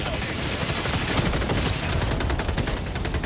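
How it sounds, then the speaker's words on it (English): Mortars and gunfire in the video game Helldivers 2: a dense, continuous barrage of rapid blasts and crackling shots, loud and close throughout, with a rhythmic pulsing burst of fire toward the end. "there are mortars firing right now"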